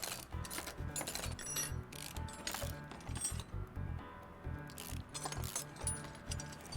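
Ratchet clicks in quick repeated bursts while a car starter is removed in Car Mechanic Simulator 2018, light metallic ticking and clinks over faint background music.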